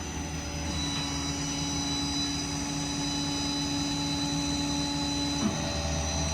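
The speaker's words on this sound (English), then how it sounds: "Winch is very quick." Winch running on a 2017 Ford F-550 mechanics crane truck with a 6.7 diesel, a steady whining mechanical hum with tonal drone over the idling engine, close and continuous, ending with a brief clunk.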